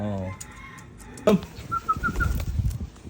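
Pigeons flying free flap their wings in short, quick bursts of fluttering, close by and moderately loud, with a few brief calls and faint background voices.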